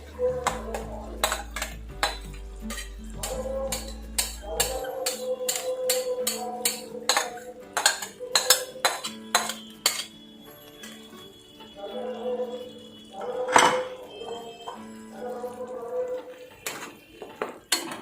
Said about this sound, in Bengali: ভালো করে এবার এর সাথে মিশিয়ে নিতে হবে।